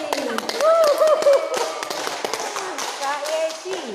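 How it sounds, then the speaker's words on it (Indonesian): Scattered claps of welcome at an online Sunday school church service, sharp taps sounding close and uneven under continuous voices talking. "semua tepuk tangan, kita sambut Kak Yesi"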